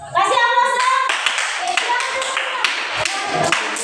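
A classroom of students claps together in a lively burst of applause, several rounds of quick hand claps fading and swelling over a few seconds, with some children's voices mixed in.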